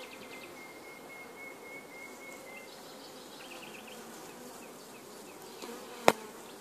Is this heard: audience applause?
no